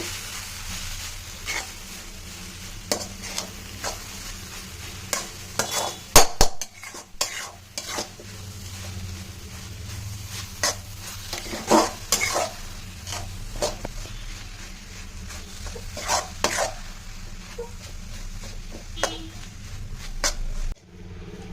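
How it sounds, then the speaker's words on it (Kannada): Beetroot palya with grated coconut and spice powder being stirred in a pan on a gas stove, with steady scraping and sizzling, spoon clacks against the pan and no talking. "ಇದೆಲ್ಲ ಹಾಕ್ಬಿಟ್ಟು ಒಂದ್ಸಲ ಚೆನ್ನಾಗಿ ತಿರುಗಿಸ್ಕೊಡಿ."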